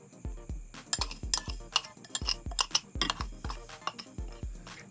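Instant coffee, sugar and water go into a bowl for dalgona whipped coffee, producing a series of sharp clinks and taps of a spoon against the bowl in an uneven, steady rhythm, close and fairly quiet.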